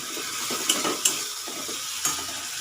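Tomatoes with salt fry and soften in a pan, giving a steady sizzle broken by a few sharp scrapes and clinks of a spoon stirring against the metal.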